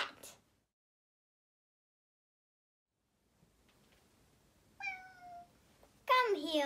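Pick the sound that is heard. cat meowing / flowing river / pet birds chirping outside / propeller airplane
cat meowing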